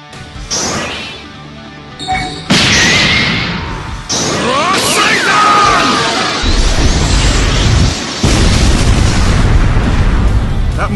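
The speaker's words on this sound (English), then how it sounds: "The explosion was crazy!" A Rasengan clash in a Naruto fan animation erupts in a series of loud crashing booms that swell into a sustained roaring blast, close and dense with no speech.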